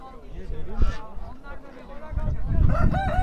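Village chickens and a rooster at a poultry market: clucking and a crow rise through the clip, closer and louder toward the end, amid crowd noise and people bargaining.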